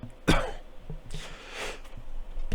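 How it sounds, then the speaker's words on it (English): One sharp, loud cough up close, followed by quieter breathy rustles and a second softer throaty burst. "I cough really loud"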